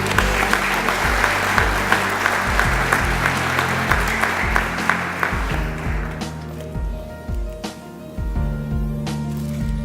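Sustained applause from a graduation audience honouring a leadership development program's graduating class of 2017, steady dense clapping that thins out toward the end.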